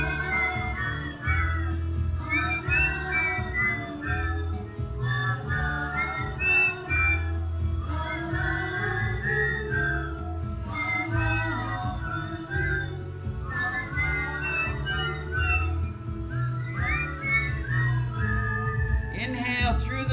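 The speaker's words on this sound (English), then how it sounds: "Now whistle just for 30 seconds." A group whistles together during a Kundalini yoga exercise, with wavering high tones rising and falling in overlapping bursts above a steady low hum of breath and room noise.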